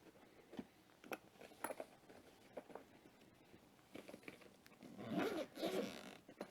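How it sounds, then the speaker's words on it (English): Zipper pulled along a soft-shell carry case for an Eachine Novice 1 FPV whoop drone starter pack, giving a few short raspy runs with handling clicks and a louder, longer zip near the end, close and alone. "Good zipper."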